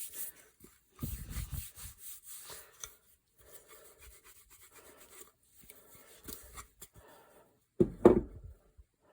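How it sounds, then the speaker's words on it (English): Palms rub oil finish into a wooden gun stock, giving soft, close, intermittent rasping strokes with a few louder bursts near the start and end. "Your hands and palms must get hot from rubbing it in."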